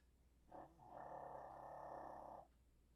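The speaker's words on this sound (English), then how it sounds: "And you hear Wanda snoring" A pet snoring softly indoors, with one short snort followed by a longer drawn-out rumbling snore, faint and close.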